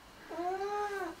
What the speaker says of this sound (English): Have you ever seen a grumpier cat?